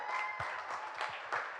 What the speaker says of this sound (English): We have one more round of applause for Jesse White Deer.